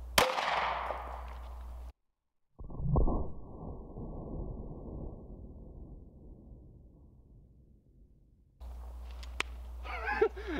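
A bullet fired into a stack of pans lands as a sharp metallic bang that rings and slowly decays for several seconds, followed by quiet and then faint outdoor noise.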